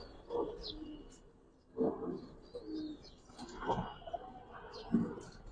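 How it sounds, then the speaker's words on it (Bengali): Female pigeon cooing in soft, repeated low bursts at close range, about four coos spaced through the stretch, with faint chirps and room noise between them. "মাদি কবুতর কিন্তু।"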